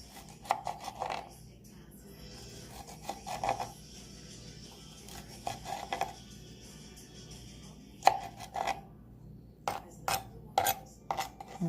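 Knife chopping tomatoes on a cutting board comes in short rapid bursts separated by pauses, fairly quiet and close, with no talking.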